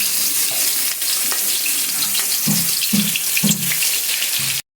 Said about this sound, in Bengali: দিয়ে দিচ্ছি ফোড়নে শুকনো লঙ্কা, দিয়ে দিচ্ছি রসুন থেতো